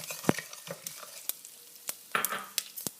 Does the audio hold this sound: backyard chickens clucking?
no